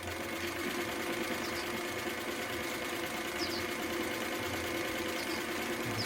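A Singer 319W sewing machine runs continuously, a steady close mechanical whir with faint knocking and a few light clicks, no talking.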